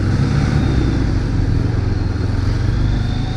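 A twin-cylinder motorcycle engine fitted with an aftermarket exhaust idles or runs steadily with a deep, throaty, uneven pulsing rumble, close and loud for a few seconds with no talking.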